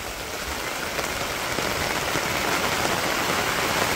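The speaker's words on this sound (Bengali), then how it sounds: "বৃষ্টি তো মোটামুটি সেই রকম বৃষ্টি হইলো ভালো বৃষ্টি" Steady rain pouring onto rice paddy fields during the Bangladeshi rainy season, a dense, even hiss of drops that stays loud and constant throughout with no voices.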